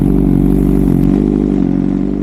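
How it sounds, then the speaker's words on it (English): A BMW M1000RR superbike with an Austin Racing aftermarket exhaust idles loud and close with a rapid, throbbing exhaust pulse, holding steady throughout. "this is how the Austin Racing exhaust will sound on the M1000RR."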